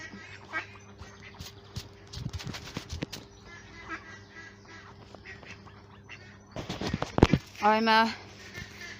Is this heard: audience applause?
no